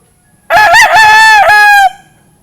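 A Boston Roundhead Millionaire gamefowl rooster gives a single loud, close crow of about one and a half seconds, rising and then holding before it cuts off, over quiet background.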